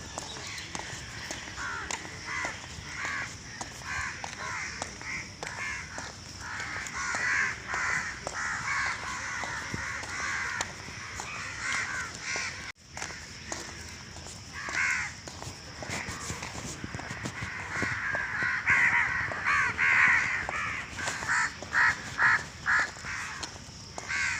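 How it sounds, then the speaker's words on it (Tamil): Crows caw repeatedly, some harsh calls near and others farther off, overlapping in a continuous chorus for the whole stretch. "கத்திக்கிட்டு இருக்கு பறவை பறவை கத்துது"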